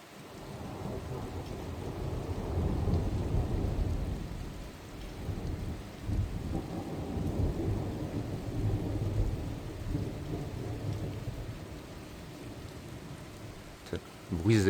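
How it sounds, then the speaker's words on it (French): A February thunderstorm in Isère during Storm Pedro: heavy rain pours steadily while low, muffled thunder rolls in waves through the downpour, heard from close by. "Le bruit des éclairs étouffés dans la masse de pluie."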